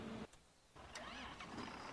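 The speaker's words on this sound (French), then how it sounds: "le tracteur il démarre." A tractor engine cranks and catches in the video game Farming Simulator 2015, a short starter burst, a brief drop, then the motor settling into a steady, fairly loud idle.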